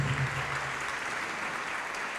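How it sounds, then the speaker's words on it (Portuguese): Church congregation applauding together, a steady wash of clapping from many hands that fills the room evenly for a couple of seconds, with no speech over it. "Vem para cá e vamos aplaudir mais ao nome de Jesus."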